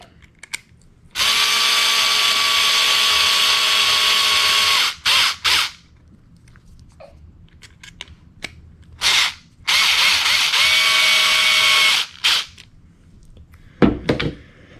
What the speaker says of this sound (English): I'm just going to screw it in until it touches, then I'm done.